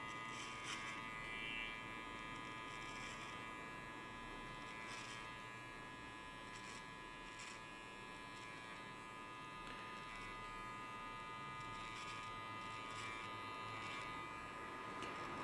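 Electric finishing clipper buzzing steadily through the whole stretch while it trims and opens a part line in a men's fade haircut at a barbershop, a close continuous hum with slight shifts as it moves along the hair.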